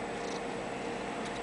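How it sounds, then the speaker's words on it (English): A tabby cat resembling a Maine Coon purrs up close, a soft, steady low rumble with no talking over it. "That's purring."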